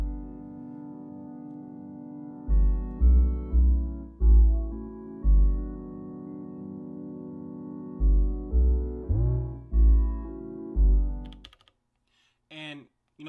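A Digitakt synthesizer pattern with slightly different filter settings plays steady sustained low tones under rhythmic bass pulses, then cuts to brief, sparse, higher blips at the end.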